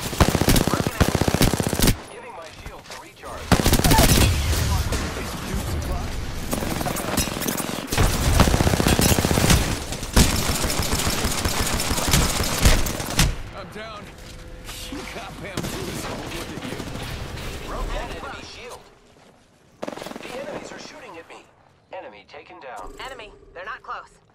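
Heavy automatic gunfire in the battle royale video game Apex Legends, long loud bursts of rapid fire with brief gaps, later thinning into scattered shots, with in-game voice lines heard in between.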